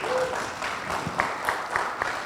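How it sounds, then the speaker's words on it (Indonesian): Audience applause at an evening disaster-preparedness training session, a steady wash of clapping with a few sharper individual claps standing out, moderately loud throughout. "tepuk tangan buat beliau"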